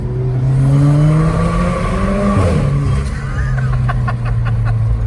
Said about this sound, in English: Dude, the intake is so loud, especially on this side.